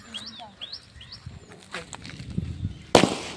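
A single sharp bang from a small firecracker near the end, loud and close, after chirping birds and low background chatter.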